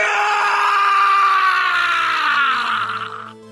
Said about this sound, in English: A wrathful scream is heard all through the entire building, echoing throughout the streets and homes of Summer.